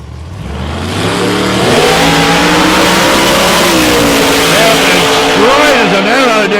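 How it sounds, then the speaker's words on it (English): A Holden Monaro race car at South Coast Raceway roars down the straight, its engine climbing through loud, sustained revs with rising and warbling pitch, while a commentator talks over it. "Nice, loud, beautiful Monaro out here."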